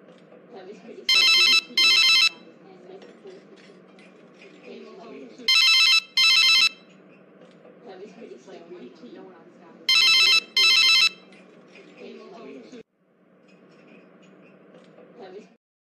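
A telephone bell rings in three separate paired bursts, each pair a quick double trill, and nobody answers it. Faint indoor background noise continues under and between the rings.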